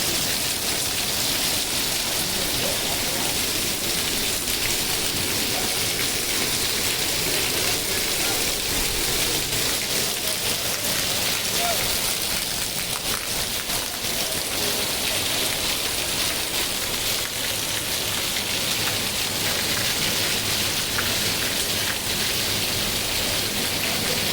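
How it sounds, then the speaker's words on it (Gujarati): Rain pours steadily in Talaja, Gujarat, a loud unbroken wash of falling water that stays even for the whole stretch with no pauses. "તળાજામાં વરસાદ શરૂ છે ત્યારે ત્રણ વાગ્યા છે"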